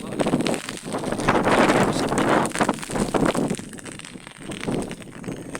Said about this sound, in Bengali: এত বাতাস হচ্ছে দাঁড়ানো যাচ্ছে খুব ঝড় বাতাস